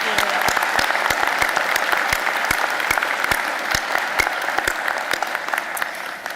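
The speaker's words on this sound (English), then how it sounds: "Let's give her another warm round of applause." Applause from an audience at a college humanities and fine arts recognition ceremony, a dense, steady patter of many hands with sharp individual claps standing out, fairly loud and unbroken for several seconds.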